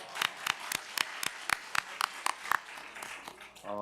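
A church congregation breaks into applause at a Friday worship service, a quick series of sharp, evenly spaced claps ringing in a reverberant hall before fading into a scattered patter.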